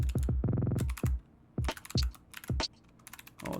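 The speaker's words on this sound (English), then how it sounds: "I know that clicking is loud. Sorry, I got different switches in there." A computer keyboard with mixed switches clicks rapidly and loudly up close, with bursts of typing broken by pauses and scattered single key presses.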